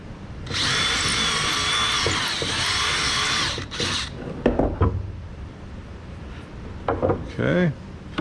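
A hole in wood being reamed out with a power drill on a night stand door: a steady, loud whirring run of about three seconds, then a brief second burst. Clattering handling noises and some talking follow.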